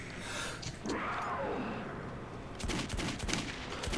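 Pistol shots in the shooter Metro 2033, a quick run of sharp cracks in the final second and a half after a rushing, noisy lead-in, fairly quiet overall.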